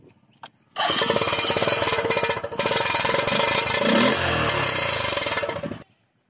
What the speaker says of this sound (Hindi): चलो आपको बाइक का आवाज सुनाते हैं। साहिल भाई कैमरा और साइलेंसर के पास लगाइए।